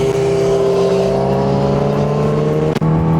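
Kawasaki Ninja H2 250 hp motorcycle at speed on a highway, a loud steady engine drone with strong whine and wind roar, held close throughout with a brief dip near the end.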